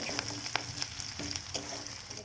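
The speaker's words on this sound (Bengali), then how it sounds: "পেঁয়াজ কুচিটাকে আর লঙ্কাটাকে ভালো করে তেলের মধ্যে মিশিয়ে নিতে হবে এবং লাল লাল করে ভেজে নিতে হবে" Chopped onion and green chili fry in hot oil, a soft sizzle broken by a few sharp stirring clicks and scrapes, close but fairly quiet with no talk.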